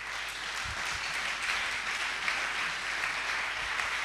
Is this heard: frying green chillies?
no